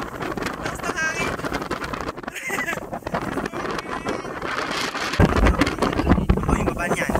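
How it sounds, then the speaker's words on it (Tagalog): Strong wind in Batangas, Philippines buffets the microphone in loud, rough gusts, with voices talking underneath throughout. "Lakas ng hangin."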